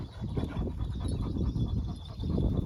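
Shelter dogs scuffling and panting up close as they play, with soft thumps and rustling movement, no talking.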